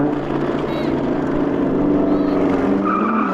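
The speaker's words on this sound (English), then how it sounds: "I just want to launch this car again because it's so much fun." A Porsche Cayenne Turbo GT and an Audi R8 launch hard off the line in a drag race, engines roaring loud and steady under a dense rumble, with faint tyre chirps cutting through the sustained noise.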